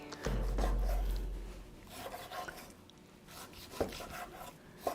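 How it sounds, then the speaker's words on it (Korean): A knife slices beef brisket into bite-size pieces, giving faint rasping cuts and a few sharp taps against the board, quiet and close with no talking. "양지를 이렇게 썰어 주는데"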